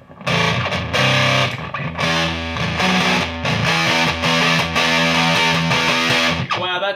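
An electric guitar runs through a homemade DBE Punkn Pi fuzz pedal, giving loud, thick distorted chords and notes that are sustained and restruck over several seconds, with a short pause near the end.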